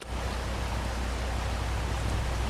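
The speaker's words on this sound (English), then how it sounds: "I think the rain is supposed to stop, but it looks like it's going to start again." Rain in the farming game Farming Simulator 25, a constant dense hiss of downpour with a low rumble underneath, steady and even throughout, with no talk.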